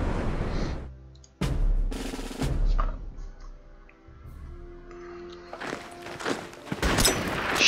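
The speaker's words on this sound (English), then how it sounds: "we gotta get our destroyers in position. Fire on these trenches." Naval destroyers shelling trenches in the Pacific war strategy game Order of Battle Pacific: several heavy booming gunfire bursts with thuds and rumbling decay, loud and close, separated by quieter stretches.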